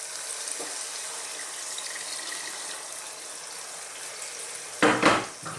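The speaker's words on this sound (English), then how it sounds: "we're going to put some water in," Cold water goes into a pot of Middle Eastern lamb stew (saloona), a steady pouring hiss throughout with a brief louder splash near the end.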